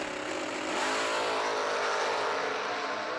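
Race car engines roaring at full throttle as two cars launch off the line at a summer racing event, a loud continuous snarling drone with rising engine pitch throughout.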